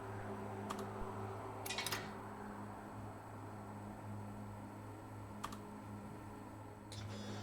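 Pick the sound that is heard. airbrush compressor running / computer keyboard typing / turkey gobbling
computer keyboard typing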